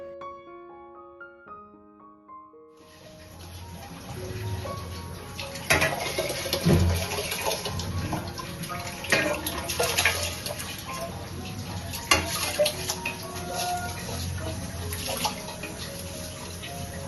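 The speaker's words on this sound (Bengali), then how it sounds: "আমি এখন চালটাকে ধুয়ে নিচ্ছি" Rice is washed under running kitchen tap water, a steady splashing rush close by with scattered clinks and knocks, coming in after a few seconds of soft tonal melody and continuing unbroken to the end.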